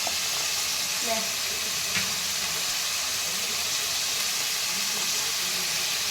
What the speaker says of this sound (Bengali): এবার আমি ভালো করে আদা রসুন বাটা আর পেঁয়াজ বাটাটা একটু কষিয়ে নেব